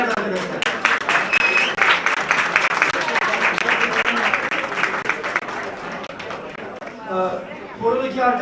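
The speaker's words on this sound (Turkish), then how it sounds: "round of applause for Day-Mer Women's Choir" An audience applauds the Day-Mer Women's Choir at a festival reception in dense, steady clapping. The applause fades near the end as a voice begins speaking.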